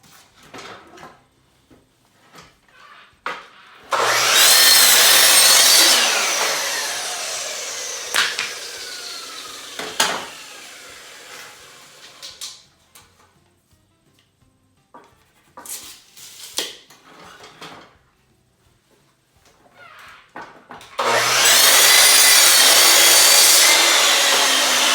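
A power saw trims reclaimed wooden boards for a DIY bar counter, two loud, sustained bursts of cutting a few seconds long with clunks and board handling between them, heard up close.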